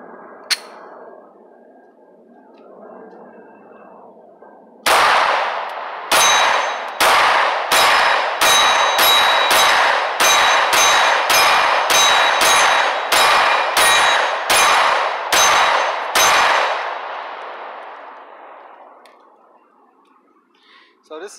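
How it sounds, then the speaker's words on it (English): A 9mm Taurus G2C pistol fired at an AR-500 steel target in Georgia woods: a rapid string of about fifteen sharp shots, each with a ringing metallic clang, loud and close, following a quiet outdoor stretch and trailing off into echo. "bring the Taurus G2C out, do some accuracy tests and everything with the AR-500 target"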